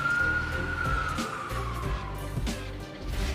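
An ambulance siren sounds in heavy traffic in China, a single sustained wailing tone that slowly falls in pitch over a steady rumble of engines and road noise.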